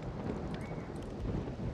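Rain falling in the video game Rollercoaster Tycoon 3, a steady, full hiss of game-world rainfall with low rumbling underneath, continuous and without voices.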